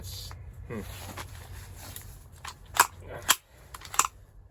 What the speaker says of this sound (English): you can still hear the trigger pull